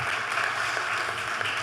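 An audience at the IBC24 Shakti Samman 2026 awards event in Chhattisgarh claps for actress Sushmita Sen: dense, steady applause at an even level throughout the short stretch.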